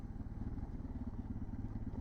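A motorcycle engine labors along with a low, uneven, rhythmic chugging that stays steady and fairly close for the whole short stretch.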